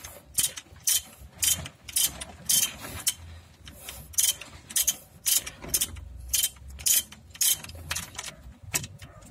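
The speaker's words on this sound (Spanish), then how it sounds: "Ahora voy a ocupar el dado largo de medida 17 milímetros y la matraca. Y lo aprieto muy bien." A ratchet with a long 17 mm socket tightening a bolt during a brake disc job on a Nissan Tiida, giving steady repeated bursts of rapid metallic clicking in an even back-and-forth rhythm, close and loud with no talk.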